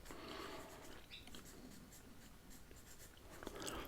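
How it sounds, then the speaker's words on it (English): A pen writes on a paper map of Australia, giving a close, soft scratching with short strokes and pauses in a quiet setting. "So I'm going to write Australia there,"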